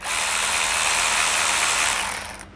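A cordless ratchet whirs steadily at close range for a couple of seconds, a dense mechanical buzz that cuts off abruptly.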